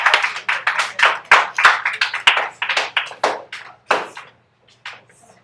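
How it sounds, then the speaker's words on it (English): A classroom of students claps in a quick burst of sharp, separate hand claps, loud and close, then thins to a few scattered claps before fading out. "Let's give the great Marcel Dini a round of applause."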